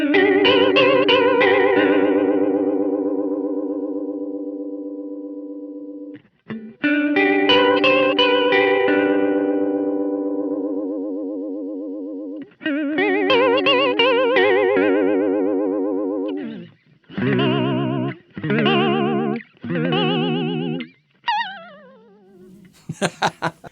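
Guitar runs through a Walrus Audio Julia analog chorus/vibrato pedal with the rate at maximum, giving a fast, shimmering wobble. Two long ringing chords fade out, then come shorter strums and clipped stabs ending in a brief slide.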